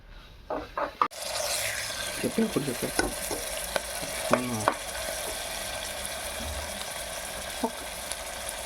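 Ginger garlic paste frying in a pan for tomato rice, a steady close sizzle with intermittent stirring scrapes and clinks, no talking.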